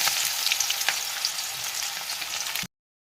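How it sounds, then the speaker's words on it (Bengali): Chopped onions sizzle in hot mustard oil with cumin and dried chillies in a wok, a close, continuous frying crackle that cuts off abruptly near the end. "এরপর কেটে রাখা পেঁয়াজগুলো দিয়ে দেবো"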